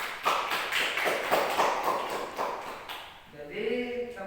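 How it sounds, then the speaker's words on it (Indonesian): A classroom gives a student a short burst of applause, quick overlapping claps from a small group that fade after about three seconds before a voice starts talking. "Beri aplaus dulu untuk Alvin"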